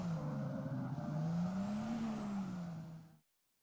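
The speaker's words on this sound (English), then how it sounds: "loud tire squeal are the overwhelming sounds you will hear in the game." Car engine droning with a long, wavering tire squeal in the drifting racing video game Drift21, a steady mid-loud whine that bends up and down before stopping abruptly; no speech.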